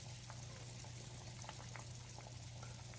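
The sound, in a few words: chicken soup boiling in a pot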